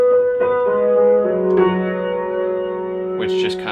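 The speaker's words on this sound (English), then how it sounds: "So the next thing I added was this piano melody that sounds like this," Piano melody from a lofi beat produced in Ableton: a few soft, overlapping notes that sustain and ring together, played alone and fairly close, with a brief brighter flourish near the end.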